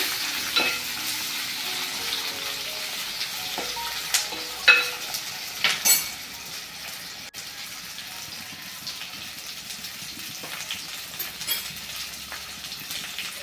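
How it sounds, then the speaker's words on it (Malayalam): Chopped onions sautéing in a pan for a potato and onion curry with roasted coconut, a steady soft sizzle and frying hiss running throughout, with a few louder stirring scrapes and clinks near the middle. "ശേഷം അരിഞ്ഞു സവോള ചേർത്ത് കൊടുത്ത് വഴച്ചെടുക്കണം"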